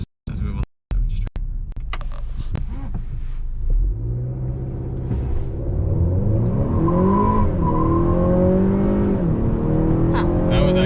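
A 2021 Honda Accord 2.0T Sport launching hard, with a few sharp thumps and then a rising engine roar and tire squeal that builds and holds loud to the end.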